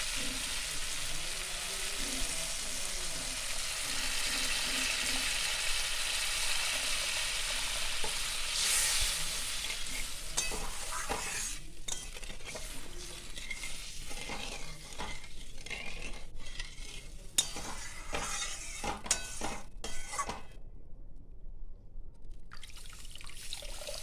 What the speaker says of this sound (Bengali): সর্ষেটা আমি বেশি নাড়াচাড়া করবো না, অল্প নাড়াচাড়া করে অল্প করে জল দিয়ে দেবো।